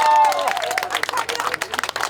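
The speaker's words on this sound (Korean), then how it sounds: "박수 한 번 더 안 주실랍니까?" Applause from a crowd at a political campaign event in Gunwi, with clapping and cheering mixed into a hubbub, continuing steadily for about two seconds at moderate level.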